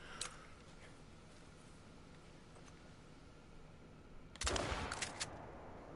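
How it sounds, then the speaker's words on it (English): A shotgun goes off in a hunting game at Layton Lakes, aimed at an albino rabbit: one sharp, loud blast near the end, after a long quiet stretch with faint outdoor ambience. "we're just going to use the shotgun"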